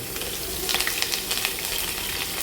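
Carrots and other vegetables fry in hot oil while shrimp biryani is being made, a dense close sizzle with a few brief stirring clicks and no voices.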